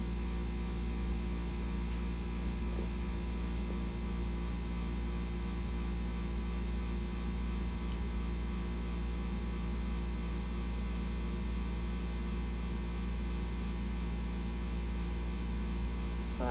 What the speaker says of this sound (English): Sorry about the air conditioning noise.